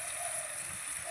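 Water from rinsing a spice bowl poured into a cooking pot of spiced potato curry, a continuous close hiss and gurgle of liquid with no talk over it.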